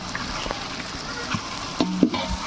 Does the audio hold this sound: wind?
no